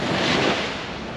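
Ocean waves wash onto a shore in a steady, broadband roar of surf, fairly loud and close, with some wind noise and no voices.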